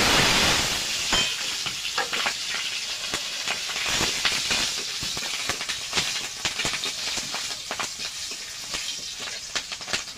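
Cumin seeds and green chillies sizzle and crackle steadily in hot oil, a loud, close, continuous hiss with scattered pops and no talking.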